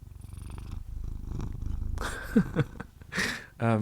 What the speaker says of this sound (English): If you hear purring in the video, it's just my cat, Doji.